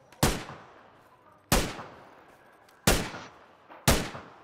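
Four loud, sharp gunshots in a video game, spaced about a second or more apart, each one cracking sharply and then fading into a short tail, with no talking over them.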